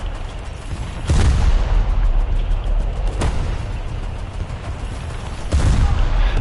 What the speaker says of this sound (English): To all of my random bullets that are slowly ripping apart his ship.